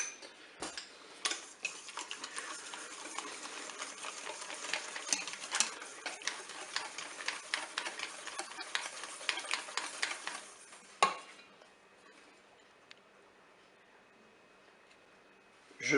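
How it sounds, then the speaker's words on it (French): Condensed milk and eggs whisked together in a mixing bowl, with rapid rhythmic ticking strokes against the bowl for about eleven seconds before stopping, then quiet. "je vais verser le lait concentré dans le saladier. Et je vais mélanger avec mes œufs."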